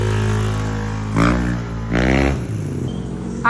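Motorcycle engine fitted with a JVT block, tuned with a fresh clutch spring, idling unevenly and then revved hard in two sharp bursts that fall back to a rough idle.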